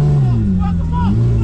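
Porsche GT3 with a straight-pipe exhaust, a loud, close, low engine rumble whose pitch dips and rises as it revs, with voices mixed in.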